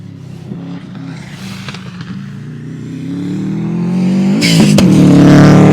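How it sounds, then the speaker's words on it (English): A Subaru H6 rally car, a Canterbury rally entry, drives along a gravel rally stage, its engine note building steadily as it approaches and revs up, growing louder toward the end. "Car number 41 is Tom Milliken from Queenstown with Chris Cunningham in the co-driver's seat from Christchurch in their Subaru H6"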